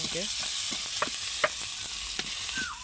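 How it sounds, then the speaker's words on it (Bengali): Continuous frying sizzle with scattered spatters, as ginger and onions are stirred in a pan with a few soft scrapes and knocks of the utensil. "আদা দিয়ে ভালোভাবে এটাকে নাড়িয়ে নেব"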